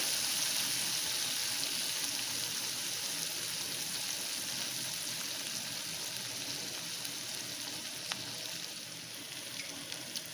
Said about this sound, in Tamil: 2 நிமிஷம் இது வதங்கட்டும்.